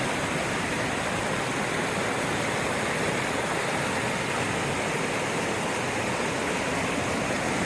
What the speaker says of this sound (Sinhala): මේ අර ස්පීල් එකෙන්